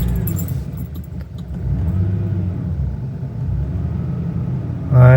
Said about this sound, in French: Je vais allumer la voiture pour voir.